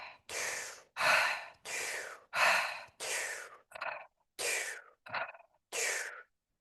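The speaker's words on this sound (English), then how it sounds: "In, out, in, out, in, out. Keep going. Keep breathing." Deep, deliberate breathing in and out, nine loud close breathy rushes of air in a steady rhythm with short pauses between, the last few shorter and sharper.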